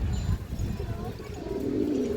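A restless pigeon gives a soft, low coo close by, brief and faint against a quiet room murmur.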